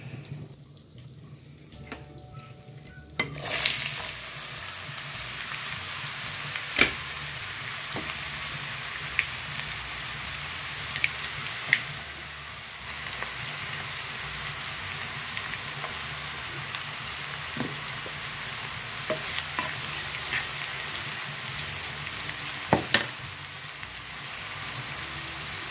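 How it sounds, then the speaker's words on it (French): Onions frying in hot oil for a tomato and oxtail sauce, a steady loud sizzle that bursts in after a few quiet seconds and crackles on continuously with occasional sharp pops, no talking. "On attend que l'huile chauffe, on fait revenir les oignons"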